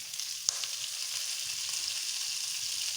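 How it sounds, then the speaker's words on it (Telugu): Washed moringa (drumstick) leaves crisping in hot oil in a pan, a continuous bright sizzle and crackle with one sharp pop early on, close and steady, with no talking. "కొంచెం క్రిస్పీనెస్ వచ్చేంత వరకు బాగా వేయించుకోవాలి."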